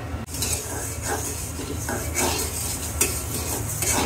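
Lentils being dry-fried and stirred in a pot for beef bhuna khichuri, with a steady scraping of a utensil against metal and a soft sizzle running close throughout.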